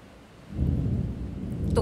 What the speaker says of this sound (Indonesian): Sebentar berasa badai ini lantai 25.